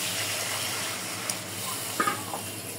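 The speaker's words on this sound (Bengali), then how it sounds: "ঝোলের পানি দিয়ে দেব।" Water pours into a pan of cooked-down spice paste for a fish curry broth, a steady gushing hiss held for about three seconds, close, with a few light knocks near the end.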